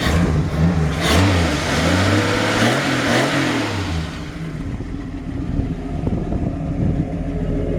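A 1981 AMC Eagle SX4's small engine revs up and down several times, loud and close, with a cool-sounding exhaust, then settles into a steady, rougher idle.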